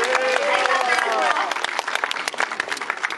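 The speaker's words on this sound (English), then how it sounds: "Can everyone give her a round of applause?" An aquarium audience gives a round of applause, steady dense clapping with crowd cheering and a voice over it early on, thinning into individual claps toward the end.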